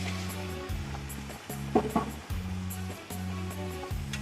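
Chicken frying in a pot with lightly browned onions for kabuli pulao, a soft sizzle under a steady low humming tone, with a brief stirring clatter in the middle.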